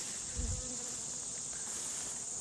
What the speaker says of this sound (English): There's right many bees going in and out.